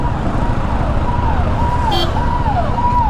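An ambulance siren wails on the road behind a KTM Duke 390 motorcycle, its tone rising and falling in repeated sweeps. It stays loud and steady over continuous road and engine rumble, with no talking.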